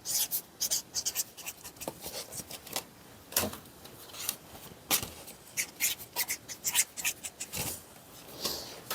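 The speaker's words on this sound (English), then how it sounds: "I will write his name on these" A pen writes a name on Valentine cards, the nib making quick, close scratchy strokes in irregular bursts separated by short pauses, with no talking.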